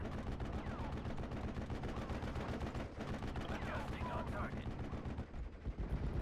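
Steady gunfire and repeated explosive thumps from mortars and small arms on a World War II Normandy battlefield in the strategy game Steel Division: Normandy 44, loud and continuous throughout with no pauses.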